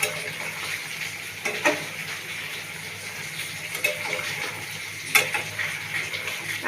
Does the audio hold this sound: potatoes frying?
yes